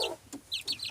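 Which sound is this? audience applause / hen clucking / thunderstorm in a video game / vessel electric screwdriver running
hen clucking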